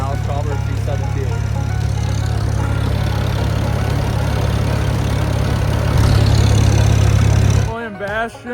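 A tractor engine running at a tractor parade, a loud, steady low rumble held close throughout, with voices over it and a brief shift in pitch near the end.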